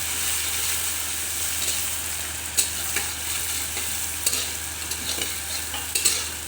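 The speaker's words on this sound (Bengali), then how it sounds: "পেঁয়াজটা একটু লাল লাল করে ভেজে নেব।" Onions fry with cumin, whole garam masala and bay leaves in a hot kadai for doi katla, a steady sizzle punctuated by sharp spatula clinks and scrapes at irregular intervals.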